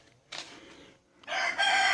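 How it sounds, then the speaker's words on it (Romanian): At a chicken coop converted from an old corn crib, a rooster lets out loud, close crowing calls in two bursts, with hens nearby. "Deja găinile vin aici."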